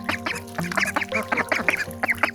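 Several Cayuga ducks quack repeatedly in a dense, overlapping chorus of short nasal calls, close and fairly loud, with a steady low hum underneath and no talking.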